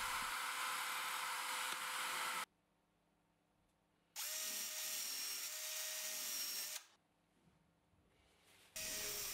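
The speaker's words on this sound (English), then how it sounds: "I drill a hole for the locking screw using a wider bit" A power drill whirs loudly in two long bursts, drilling a screw hole with a wide bit for a homemade router-bit sharpening jig, separated by quiet pauses, with a brief restart at the end.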